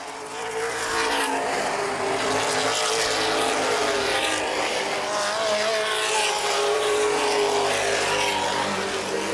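Late model stock cars race on a short oval speedway, their loud engines roaring steadily and continuously as the pack charges down the back straightaway in a feature race.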